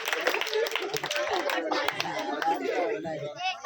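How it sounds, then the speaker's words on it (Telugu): Children at a Christmas Bible school celebration clap, scattered, uneven hand claps mixed with lively chatter and kids' voices, fairly close and busy throughout. "క్లాప్స్ కొట్టండి రా కొట్టండి రే కొట్టండి"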